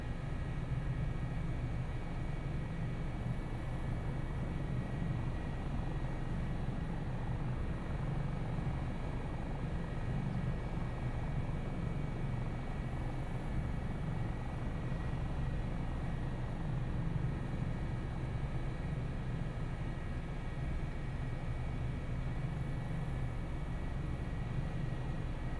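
A helicopter on the ground taxiing before shutdown, a loud steady engine drone and rotor rumble that runs unbroken and constant throughout.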